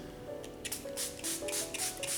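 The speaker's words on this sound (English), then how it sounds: "I'm just gonna spray right on that dent." Several quick hissing bursts from a small spray bottle mist water onto a dented painted canvas, close and fairly quiet, in an irregular run of squirts.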